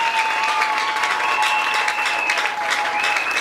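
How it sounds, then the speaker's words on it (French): A church congregation at a Sunday service applauds for the Lord, steady dense clapping from many hands that continues throughout, with a few voices faintly mixed in. "Dans ton cœur, acclame très fort pour le Seigneur."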